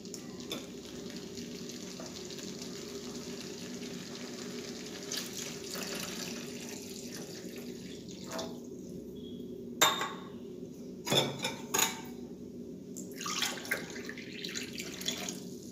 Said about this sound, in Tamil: இது கூட 2 டம்ளர் தண்ணி சேர்த்துக்கலாங்க.